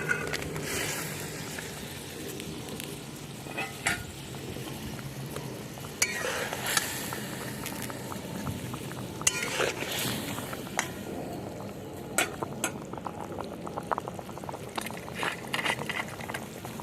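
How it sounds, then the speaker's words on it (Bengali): Fried fresh eggplant slides into a thin, boiling village-style dhela fish broth, with close, steady bubbling and sizzling broken by occasional stirring clinks and scrapes of a utensil. "ঝোল ফুটে গেছে ভেজে রাখা বেগুনগুলো আমি দিয়ে দিচ্ছি"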